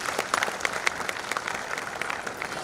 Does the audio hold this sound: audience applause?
yes